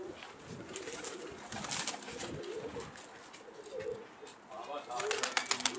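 Pigeons coo softly at a distance over a steady outdoor hiss, with a few faint wing flutters and some rustling toward the end.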